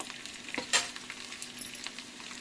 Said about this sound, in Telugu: చూడండి, ఈ విధంగా మనం వేపుకోవాలండి.